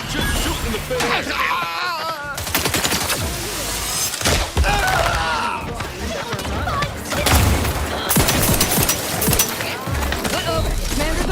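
Gunfire bursts and combat sounds from The Outer Worlds 2 video game come in rapid, loud clusters, mixed with shouts, groans and game voices talking over the fighting.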